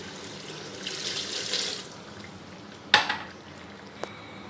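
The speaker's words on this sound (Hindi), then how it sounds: "मैं इसमें 5 से 6 गिलास पानी डालूँगी।" Water pours into a cooking pot of chicken nihari with a soft rushing splash for a couple of seconds, followed by a sharp clank and a lighter knock of the pot or lid.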